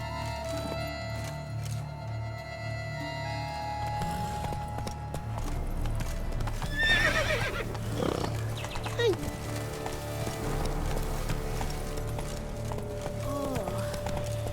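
A horse in The Witcher 3 video game galloping with rhythmic hoof clip-clops and a brief neigh. The galloping plays over a game soundtrack, with a short spoken line in the scene.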